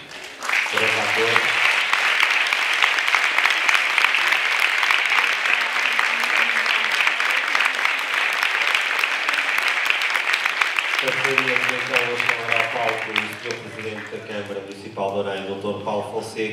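Theatre audience applauding an actor at the end of a staged performance of A Midsummer Night's Dream, dense sustained clapping throughout, with a voice speaking over it at the start and again near the end.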